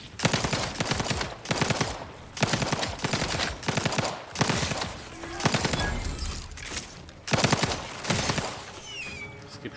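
The Outer Worlds 2 gunfire comes in repeated sustained automatic bursts separated by brief pauses, loud and close, with no speech in between.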